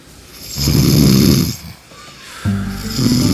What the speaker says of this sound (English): Just give them 10 minutes and they'll be back snoring.